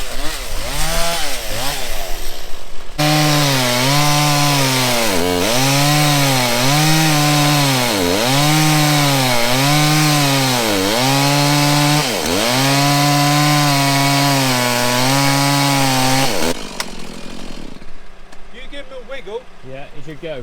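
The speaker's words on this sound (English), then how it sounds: "John has to do the chainsaw because he's the only one that's got the ticket" A chainsaw cuts through a fallen tree on a farm, loud and close. Its engine pitch rises and dips in a regular rhythm as it bites into the wood for about fourteen seconds, then cuts out, with voices talking before and after.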